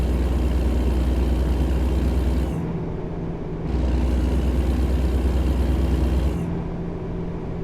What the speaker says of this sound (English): this truck mod, it sounds absolutely fantastic